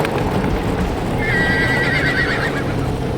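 A horse neighs loudly in the VR game FATED, a long whinny rising over steady clip-clop hoofbeats and a dense rumbling background, with no talking.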